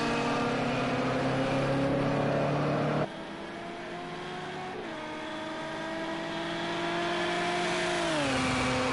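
A racing car engine in Project Cars 2 holds a steady high drone, drops in pitch with a gear change, then climbs and falls again as the car slides slightly on a slippery track, heard up close and with no talk.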